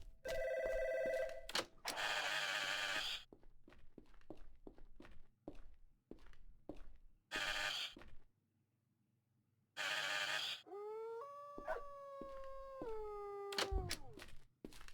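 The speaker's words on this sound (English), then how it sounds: "it'd be rude of us not to answer the phone." A telephone in the video game ADACA rings in repeated loud bursts, set among footsteps, thuds and sliding tones, with no speech.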